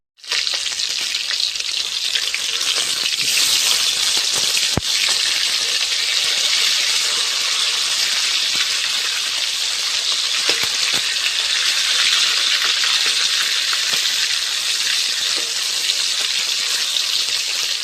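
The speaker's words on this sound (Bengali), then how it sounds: "এবার আমি সব মাছগুলো ভেজে নেব।" Fish, Ganges saiting fish for a spicy curry, frying in a pan: a steady, close hiss of hot-oil sizzle running continuously with no talk, broken by a single sharp click partway through.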